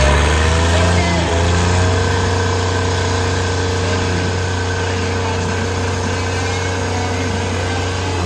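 New Holland tractor engines at a tractor pulling competition, a loud continuous drone that holds steady throughout, with crowd noise and voices mixed underneath.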